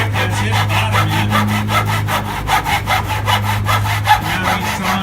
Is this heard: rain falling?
no